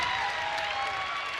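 Navy students clapping at a college basketball game against VCU, heard as a short stretch of steady applause from a crowd in an arena.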